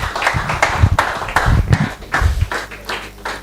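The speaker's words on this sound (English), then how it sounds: "Please, a round of applause for him once again." Audience applause at an investing seminar: a close, moderately loud patter of irregular claps that rises and falls in uneven bursts for a few seconds.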